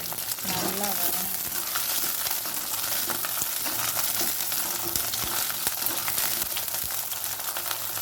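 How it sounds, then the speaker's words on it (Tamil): Garlic and onion fry in hot oil with a steady, dense sizzle throughout, broken by occasional soft stirring clicks. "சேர்த்து நல்லா எண்ணெயிலேயே பூண்டு வெங்காயமும் நல்லா வரும்"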